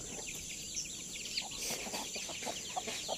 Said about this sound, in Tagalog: Marami kaming manok.